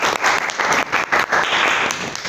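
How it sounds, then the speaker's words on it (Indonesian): A classroom of students claps in a short, loud, dense burst of applause with slight swells. "tepuk tangan."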